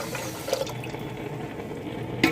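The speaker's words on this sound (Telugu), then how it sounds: "పాలు ఇవి వేసుకుందాం ఇందులోని" Milk poured into a pot of rice for payasam, a short continuous liquid splash and gurgle close by, fairly steady and alone.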